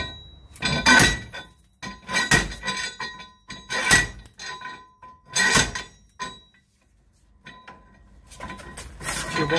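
Metal hammer blows on a Chevrolet Sonic front wheel hub during a wheel bearing replacement, sharp ringing strikes in uneven bursts of several hits with short pauses, close and loud.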